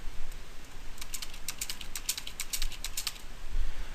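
Rapid, steady clatter of fingers typing on a computer keyboard, close and moderately quiet, with irregular bursts of keystrokes and no talking.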